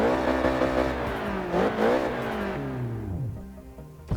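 A car engine in Forza Motorsport 6 starting and revving, rising and falling in pitch through several loud, close revs before dropping back toward idle.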